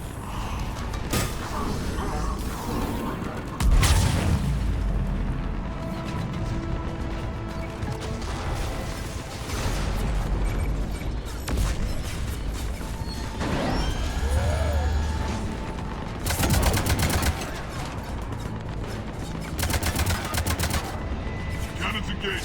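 Cannons firing in the video game Mass Effect 3 on Omega, with loud booming shots and mechanical clanks amid a busy battle soundscape of crashes and bursts.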